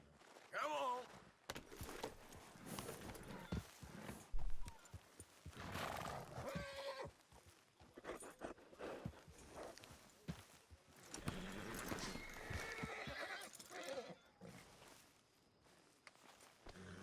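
A horse in Red Dead Redemption 2 gameplay, with hoof clip-clops and footsteps, a whinny or snort, and light handling sounds. Quiet overall, with occasional speech-like voices in the mix.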